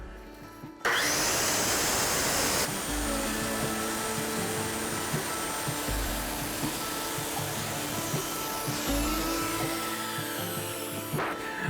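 A power saw cuts through plywood during a shower build, its blade set to the sheet's thickness. It makes a loud, steady roar that starts abruptly and runs without a break for about eleven seconds.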